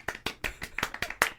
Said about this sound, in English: Is this applause for me or for Caitlin?